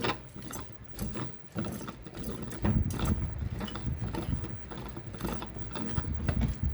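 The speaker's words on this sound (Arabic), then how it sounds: "اجيب مفك كده، فكيت عندي الهوك، ابتدي افكه كده" A screwdriver unscrews the hook of a Maxel ceiling fan during a bearing change, making a steady run of rapid ratcheting clicks and metallic rattling close up, with no talking.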